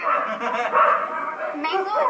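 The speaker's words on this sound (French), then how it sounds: "On a environ 350 chiens ici." Dogs at a shelter housing around 350 of them bark and yip in a chorus, with whimpers, under a person talking nearby.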